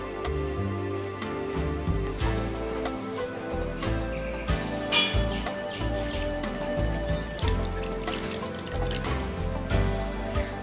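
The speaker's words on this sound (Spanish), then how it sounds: "Luego, con mucho cuidado, pondremos el agua." Water being poured carefully into a container holding a lit candle, irregular trickling and dripping with small splashes over a layer of background music, moderately loud and close.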